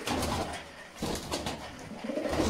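Pigeons coo softly and repeatedly nearby, low throaty calls overlapping in a gentle, uneven rhythm with no talking.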